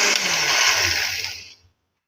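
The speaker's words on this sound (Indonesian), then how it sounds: "Kita blender sampai lembut ya." A kitchen blender whirs loudly as it purees a seasoning paste for grilled chicken and fish, a steady high whine that winds down and stops near the end.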